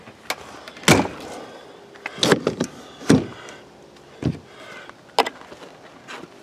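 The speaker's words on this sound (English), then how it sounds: "Let's shut this door real quick." An RV entry door is shut in a few separate sharp knocks and thuds, close and fairly loud, with rattles and handling noises between them, while a folding hand rail is being fitted beside the door.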